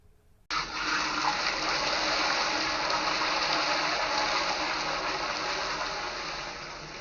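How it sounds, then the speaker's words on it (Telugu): Two cups of water for wheat rava upma pour into a pan of fried ingredients, starting abruptly after a brief quiet moment and running as a steady, close splashing gush that eases slightly near the end. "2 కప్పులు వాటర్ వేసుకోవాలి"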